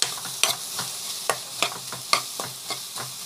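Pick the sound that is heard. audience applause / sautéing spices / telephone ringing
sautéing spices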